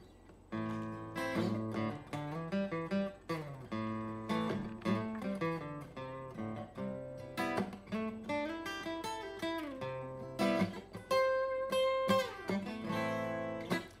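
A banjo picks quick, bright plucked notes in a running minor pentatonic line, moving back and forth between two chord shapes, fairly close and clear.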